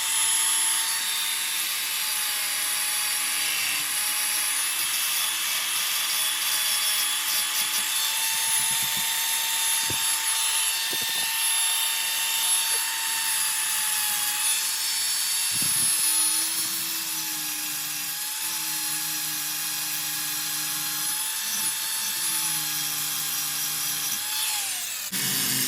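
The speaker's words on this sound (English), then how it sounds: "All right, we got that ground off." Grinding on a Ford Bronco window regulator part gives a steady, high metallic whine that runs almost unbroken, with a few brief dips and scrapes where the tool bites the workpiece; no one speaks.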